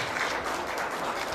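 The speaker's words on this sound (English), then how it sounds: "Can we give the Beglin Academy a round of applause for their wonderful performance" Dense crowd clapping at a St. Patrick's Day parade kickoff press conference in Milwaukee, honoring a performance by the Beglin Academy; a steady, close wash of applause fills the short stretch without pause.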